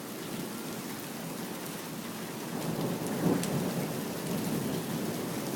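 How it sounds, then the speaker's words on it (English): Steady rain falls during a thunderstorm under a tornado warning, a dense continuous hiss that swells slightly louder midway with a brief crack, and no talk over it. "is it still hailing or is it just rain? I think it's just rain"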